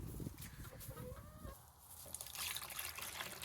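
Laying hens cluck softly in a farmyard coop during chores, low murmuring calls over a rushing, watery background, fairly faint and with no voices.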